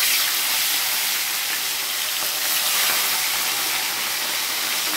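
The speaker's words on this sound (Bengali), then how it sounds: "এবার মাছগুলোকে আমি ভেজে নেব" Fish sizzling in hot oil in a wok, a steady close hiss and crackle that carries on unbroken with no talking.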